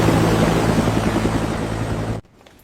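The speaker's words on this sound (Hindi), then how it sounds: "हेलीकॉप्टर उड़ान भरने ही वाला है" Loud, steady helicopter rotor and engine roar close by as the aircraft readies for takeoff, constant throbbing drone that cuts off abruptly near the end.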